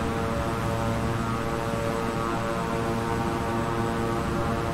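King Air 350i turboprop taxiing in Microsoft Flight Simulator, a steady loud propeller and engine drone with a constant tonal whine throughout and no voices.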